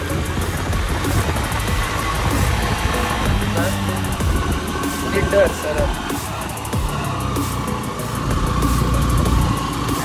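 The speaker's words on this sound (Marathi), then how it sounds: "गाडी बघा किती रेस होणार।" A vehicle engine labours and revs while climbing a steep slope near a new Shiv temple in Kasmal, Pen, a rumbling drone rising and falling close by with wind buffeting.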